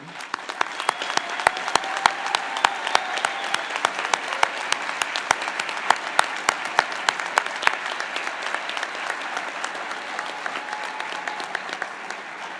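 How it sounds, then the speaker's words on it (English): A university graduation crowd applauds the standing faculty with a sustained round of clapping, dense and even with sharp individual claps standing out near the front, and some faint voices beneath. "we'll give you a round of applause in appreciation for all that you do"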